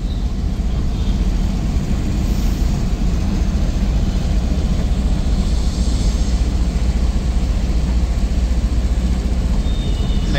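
A metro train runs steadily, its continuous low rumble and rolling noise filling the whole stretch at close range with no talk.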